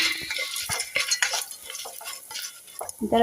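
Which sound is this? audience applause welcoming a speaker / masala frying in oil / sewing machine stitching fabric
masala frying in oil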